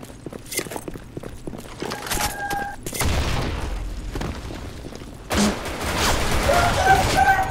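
Shots ring out in a video game in scattered bursts, mixed with sharp cracks and loud swelling noise that comes near and then fades.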